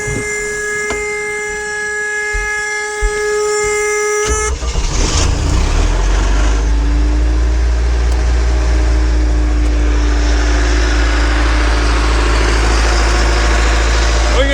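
A 1976 Mercruiser 120 hp boat engine on a Starcraft boat starts up partway through and then runs steadily with a loud, close, low rumble, following a stretch of tonal background hum.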